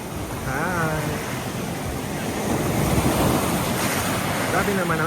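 Loud ocean surf rushes and churns continuously at a beach resort, swelling around the middle, with wind buffeting the microphone and brief voices underneath.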